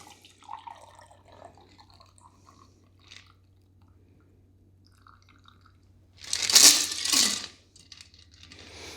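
Hot grog cocktail poured into a glass holding a fan of cut apples: a short splashing, trickling pour rises near the end after quiet clinks and handling, close and moderately loud.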